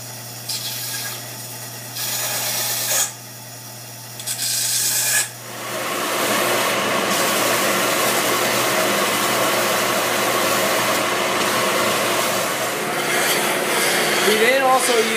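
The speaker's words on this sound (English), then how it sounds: "Next up is a detail sander." A small detail sander kicks on after a few seconds of short bursts, then buzzes and rasps steadily against whiskey barrel wood, loud and near.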